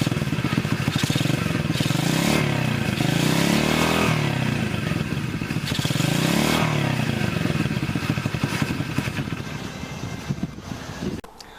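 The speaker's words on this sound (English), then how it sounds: "there was that little clip of that little bike running" Small Coolster pit bike engine running steadily and loudly up close, with some rhythmic revving swells and mechanical clatter throughout, fading slightly at the end.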